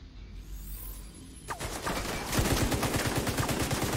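Automatic gunfire in the video game The Division 2: after a quieter start, rapid bursts of shots erupt and grow into a dense, loud, sustained volley near the end, with no talking.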